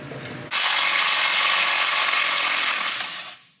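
A ratcheting torsion key unloading tool works on a Duramax truck, giving one loud, dense, continuous burst of rapid mechanical clicking that lasts about two and a half seconds and then fades out.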